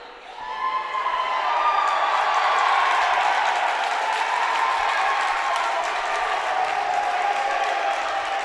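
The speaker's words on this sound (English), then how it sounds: "Something was said, and the fans erupted." A basketball crowd erupts after a technical foul call, a loud, sustained roar of cheering and shouting that swells within the first second and holds steady to the end.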